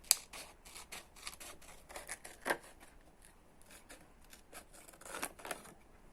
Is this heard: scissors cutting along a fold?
yes